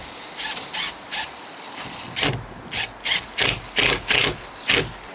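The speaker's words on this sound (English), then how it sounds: "take these screws from earlier, the short ones, and we're going to place one of those in each of the bottom brackets." Short screws are driven into the bottom brackets of a VELUX top-hung roof window, making a series of close, rhythmic rasping turns, sparse at first and then faster and louder.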